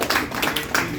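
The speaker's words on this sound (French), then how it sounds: "Donc on peut applaudir quand même notre prof" Brief burst of clapping from a gathered crowd at a funeral ceremony for a professor, several quick overlapping claps close by.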